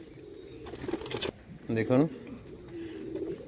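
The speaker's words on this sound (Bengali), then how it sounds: "লাল কাঠ নর পায়রা" Male red pigeons give a short coo close by, mixed with a person talking and some jangling, rustling handling noise.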